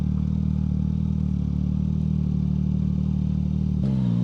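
A Yamaha MT-09 motorcycle with a Vcyclenut tune is ridden at a steady, loud, close engine drone with a throaty rumble, shifting in pitch near the end, without talking.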